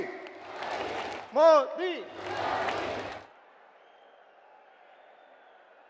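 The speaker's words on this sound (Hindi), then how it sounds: "सब लोग ताली बजाकर उनका स्वागत करें" At a public meeting in Ajmer, Rajasthan, a crowd claps and cheers to welcome Modi in two broadband bursts, with a loud chanted voice rising between them, before everything drops to a quiet hum.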